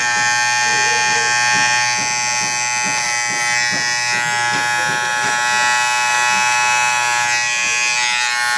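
An electric hair clipper buzzes steadily and closely throughout while cutting a shaved design into hair, with a voice talking faintly beneath the constant whine.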